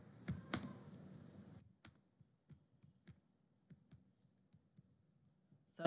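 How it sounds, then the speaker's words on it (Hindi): A course name is typed on a computer keyboard in a close, fast burst of clicks, followed by a run of sparse, separate keystrokes with a final click at the end. "आपको यहाँ पर कोर्स का नाम टाइप करना है।"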